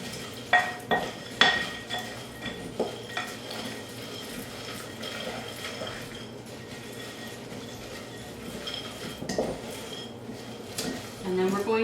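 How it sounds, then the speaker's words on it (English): Chickpeas are stirred with chili powder in a dish, giving several sharp clinks of a spoon or utensil against the container, followed by softer scraping, heard close with a voice talking. "Coat the chickpeas."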